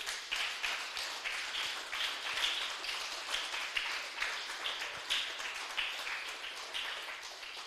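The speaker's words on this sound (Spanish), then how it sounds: "Denle un fuerte aplauso al Señor, aleluya." A church congregation claps together in a steady rhythmic beat throughout, a dense, moderately loud patter of many hands with faint voices mixed in.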